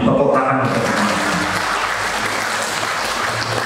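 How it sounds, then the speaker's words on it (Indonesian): An audience at a police cooperative gathering breaks into dense, continuous applause that stays loud and even throughout, with a voice briefly at the start. "Tepuk tangan."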